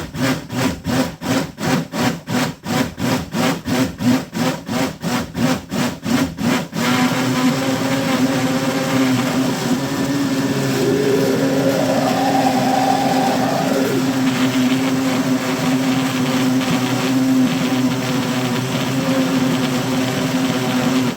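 A cheap $16 Walmart blender mixing worm food, first pulsing in rapid rhythmic bursts, then running as a continuous steady whir with a rising and falling hum partway through, loud and close.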